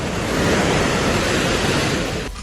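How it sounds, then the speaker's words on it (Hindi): The flooded Beas river surges after water is released from the Pong dam, a loud, dense, continuous roar of rushing water with heavy wind-like rumble throughout. "जिसकी वजह से ब्यास नदी में उफान आई"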